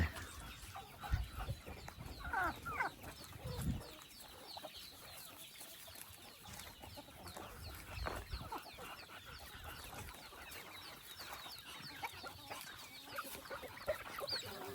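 Chickens clucking in a farmyard, scattered soft clucks and short calls from several birds, faint and close, with rustling around them.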